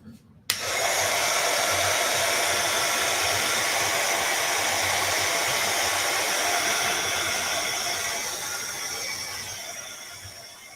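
A hair dryer blows on wet paint, switching on with a click and then holding a loud, steady, close whoosh that eases slightly toward the end.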